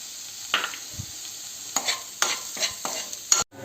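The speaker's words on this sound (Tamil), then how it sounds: "இப்போ குடமிளகாய் போட்டு இது கொஞ்சம் வதங்கணும்." Capsicum sautéing with garlic in a pan for a Mysore dosa masala, a steady soft sizzle broken by several quick scraping stirs and spatula clacks, close and fairly quiet with no talk.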